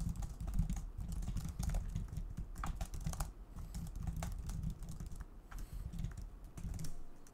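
Fingers type data into a text file on a computer keyboard, a quick close run of clicking keystrokes with brief pauses between bursts.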